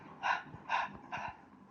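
A voice imitates the huffing and puffing of someone out of breath after running fast, three strong breathy puffs spaced evenly, loud and close, with no words spoken.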